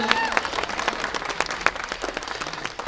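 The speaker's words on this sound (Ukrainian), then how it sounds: "оплески, оплески, звичайно" Audience applause at the opening ceremony of the Hutsul Trail town event, a steady wash of clapping from a crowd, with sharper individual claps standing out and a voice briefly heard over it.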